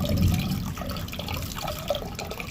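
Water is poured into a mango drink mixture for aam panna, a close, steady splashing and trickling of liquid filling a vessel that stays fairly even throughout.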